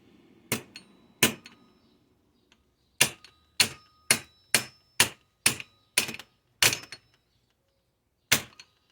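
A small hammer taps a part into the intake manifold of a 2234cc Type 1 engine. Two early knocks are followed by a quick regular run of sharp metallic strikes, and one last hit comes after a pause.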